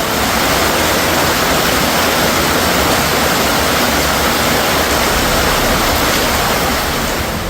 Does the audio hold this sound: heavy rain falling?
yes